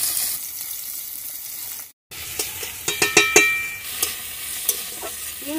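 Onions and tomatoes frying in oil in a pan for a Bengali magur fish curry, a steady close sizzle with a brief dropout and a run of sharper stirring clatters and crackles partway through.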